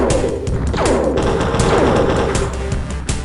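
A grenade explodes in the DOS game X-Com: UFO Defense, a loud crashing burst followed by rumbling, crackling debris and thuds that carry on densely for a few seconds, with no talking.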